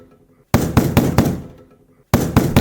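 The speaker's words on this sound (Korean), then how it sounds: "또다시 들려오는 노크 소리." Sharp, loud knocks on a door in a horror story setting come in two bursts, four quick raps, then silence, then three more, each crisp and close.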